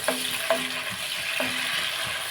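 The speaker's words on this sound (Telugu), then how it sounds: "ఇప్పుడు మనం ఎండ్రేలు వేసుకుందాం" Dried prawns hitting hot oil in a pan for a Telugu dried prawn curry, a steady sizzle broken by a few clanks of a stirring spoon against the metal.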